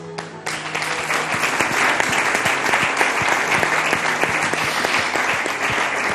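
A church congregation bursts into loud, sustained applause and acclamations to welcome visiting pastors, steady dense clapping filling the whole stretch.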